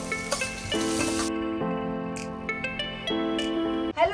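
Whipped yogurt and paneer tempered in hot desi ghee, a soft sizzle with intermittent clinks and scraping of a utensil against the pan, close and steady.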